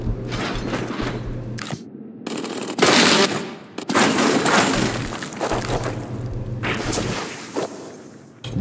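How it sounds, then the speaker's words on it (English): Heavy gunfire in the Warhammer 40,000 shooter Boltgun, loud bursts of rapid automatic shots with crashing impacts, stopping and restarting in several volleys. "Whoa, who's shooting at me?"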